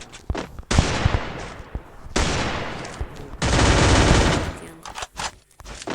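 Bursts of gunfire in the battle royale game Free Fire, three dense, loud volleys of rapid shots separated by short pauses, with scattered single pops between them.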